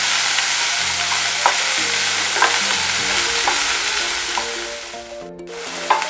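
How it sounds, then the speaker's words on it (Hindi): Onions frying in a pan over a medium flame give a steady, close hiss with scattered stirring clicks, over soft background music; the sizzle eases near the end. "ऑनियन को ब्राउन होने तक फ्राई करना है।"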